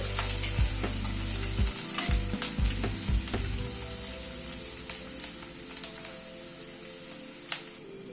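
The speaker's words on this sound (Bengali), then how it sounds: "পেঁয়াজটাকে একটু হালকা করে ভেজে নিচ্ছি আগে" Chopped onion frying lightly in oil for a chicken curry, a steady close sizzle with a few stirring scrapes in the first seconds, then a softer, even crackle.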